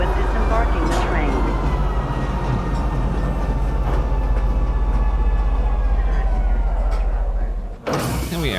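A train in Star Citizen pulling into Tisa Spaceport, a loud, steady mechanical rumble with a recorded announcement voice over it, stopping abruptly near the end.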